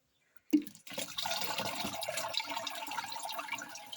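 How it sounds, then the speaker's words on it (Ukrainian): Water poured from a tap into a 5-litre watering can, a short splash onset followed by a steady, hissing stream filling the can, fairly quiet and close, with no voices. "всього у нас має бути 5 літрів водички. Доливаємо. У мене якраз лієчка на 5 літрів."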